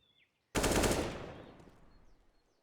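A sudden loud burst of automatic gunfire from the video game CS:GO erupts after a short quiet, a dense rattle that fades away over about two seconds.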